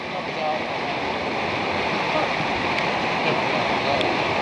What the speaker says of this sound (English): We're up on the bridge there above the waterfall.